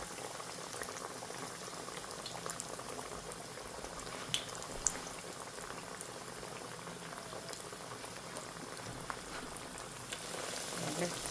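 Aloo tikki patties fry in a pan with a constant fine bubbling and sizzling of oil. A couple of sharp clicks of utensils cut through it.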